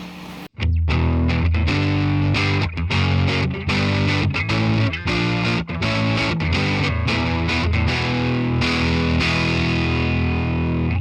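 Electric guitar through a Jensen speaker driven by a 65-watt amp, with moderate overdriven breakup. A continuous loud chordal riff with choppy rhythmic stops plays alone, with no voices.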